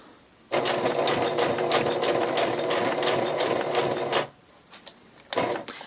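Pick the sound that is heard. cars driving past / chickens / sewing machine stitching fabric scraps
sewing machine stitching fabric scraps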